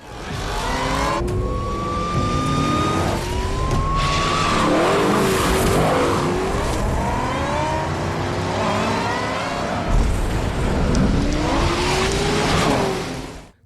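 Tires squeal and skid repeatedly as race cars rev and speed past, loud and continuous with rising and falling engine whines.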